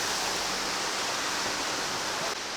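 Small cascade of cold water spilling like a little waterfall at a spring-fed spot near Antalya, a steady broadband rush that holds at even loudness throughout, close and continuous with no voices.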